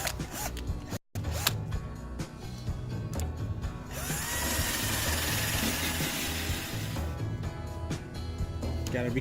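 Power drill spinning a metal wire brush to strip rust near a car's pinch weld under the windshield, a steady close whirring scrape that grows louder and denser midway, running almost continuously with a brief pause near the start.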